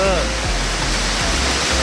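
Victoria Falls on the Zambia side during the dry season with reduced water flow, a loud, steady, broad roar of falling water close by with no break.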